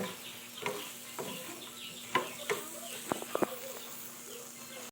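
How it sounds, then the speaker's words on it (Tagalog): Shrimp sautéing in a pan gives a quiet, steady sizzle, with occasional scraping clicks and taps of a utensil stirring against the pan. "Gigisa tayo ng shrimp"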